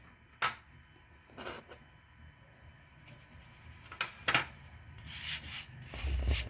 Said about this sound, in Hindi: अब साथ ही हम 2 कप जो मैदा लिया है उसको स्टेन कर लेते हैं, छान लेते हैं